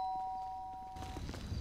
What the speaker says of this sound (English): There's a doorbell right here.